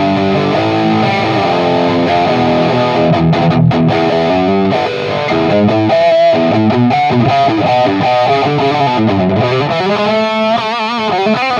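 A fake Gibson Les Paul Custom electric guitar plays distorted, effect-laden chords and lead lines up close, a sustained loud run of notes with no talking.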